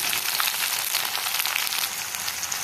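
Green chillies frying with onion in a hot pan for kanda poha, a dense, even sizzle that stays loud and close from start to finish.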